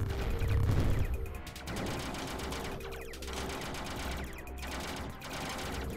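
Rapid bursts of gunfire from a game jam shooter dominate a dense, loud mix, with a heavy blast near the start and steady rattling shots carrying on under a low rumbling bed.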